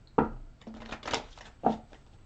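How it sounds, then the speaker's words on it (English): A few crisp riffling bursts as a deck of cards is shuffled, close by, with short pauses between. "One more shuffle."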